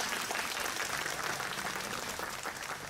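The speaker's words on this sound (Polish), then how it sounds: "Oklaski dla młodzieży." Applause for young performers at a village picnic in Zaraszów, a dense steady patter of many hands clapping, fairly even in loudness throughout.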